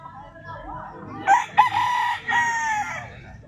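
A rooster crows loudly and close by, one long harmonic call rising then holding, with clucking and light background noise around it.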